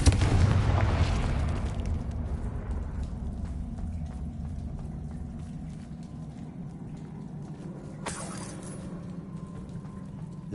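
A Confringo spell explosion in Hogwarts Legacy bursts loud at the start and rumbles away, followed by a quieter ambient stretch and a second short, sharp crack near the end.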